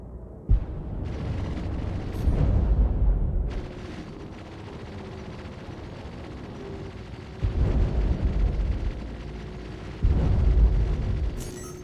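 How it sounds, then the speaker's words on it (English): Missile explosions in the space game Star Citizen, played in VR: several deep rumbling booms arrive at intervals, each a loud low-end blast that swells and then decays, over a steady background hum. "It's a missile"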